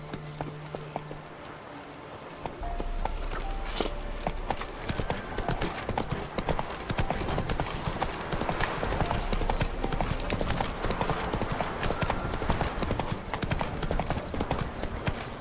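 A horse gallops in The Witcher 3 video game, its hooves clip-clopping in a rapid, steady, loud rhythm after a brief quieter start and continuing without a break.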